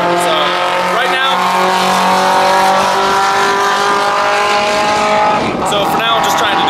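A race car screams past on a racetrack, its high engine whine rising and sliding in pitch as it approaches and recedes, loud and close, followed by another car's roar near the end.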